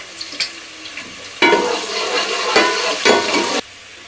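Onion with ginger garlic paste fries in hot oil, a loud close sizzle broken by stirring scrapes, with a few brief pauses between bursts.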